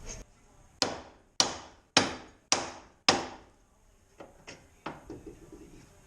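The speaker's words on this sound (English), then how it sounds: "To get the tie rod off, I usually just smack it with a hammer." Five sharp metallic hammer blows on a Honda's tie rod and spindle ring out in a steady rhythm, followed by several lighter, duller taps, each strike decaying quickly.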